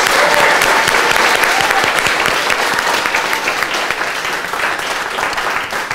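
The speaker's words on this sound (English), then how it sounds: "Let's give them a round of applause." An audience at an invention bootcamp gives a round of applause: dense, loud, sustained clapping from many hands that fades slightly over about six seconds.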